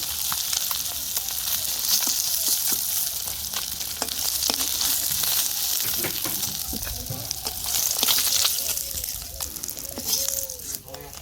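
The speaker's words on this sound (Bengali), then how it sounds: "মাছ ভাজি হয়ে গেছে, নামিয়ে নেই" Whole koi fish frying in hot oil, a steady dense sizzle with crackles and pops throughout, while children and adults talk and call out nearby over the cooking.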